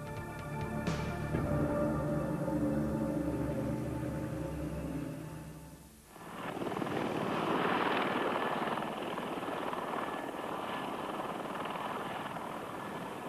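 A helicopter with a NOTAR anti-torque system flies by, heard first as a loud turbine whine with steady engine tones, then after a brief dip as a broad, roaring rush of rotor wash and engine noise.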